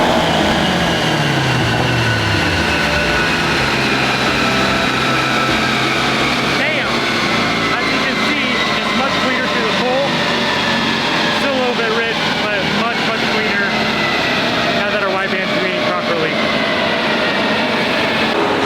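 A turbocharged Honda Type R engine roars loudly and continuously on a dyno, its pitch climbing steadily through a full-throttle pull on pump gas at 20 psi of boost, with voices talking over it.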